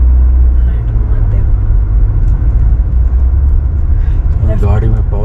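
Inside an underpowered car climbing a dusty high mountain road between Baralacha-la and Pang in Ladakh, with the AC running: a loud, steady engine and road rumble fills the cabin, and a voice is heard briefly near the end.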